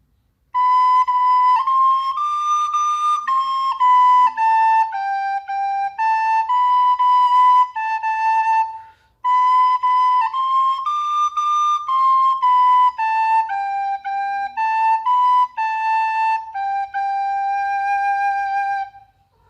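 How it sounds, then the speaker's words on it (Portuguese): A recorder (flauta doce) plays a clear, pure melody of sustained stepwise notes, loud and close, with a brief pause midway before the tune repeats; no talking. "Então esse aqui é o som da flauta doce."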